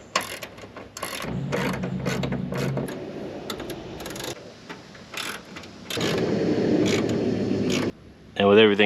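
A ratchet tightens the mounting hardware of a Westin E Series step bar to a Jeep Wrangler frame. Rapid pawl clicking comes in several sustained close bursts, broken by short pauses and clanks as the tool is moved.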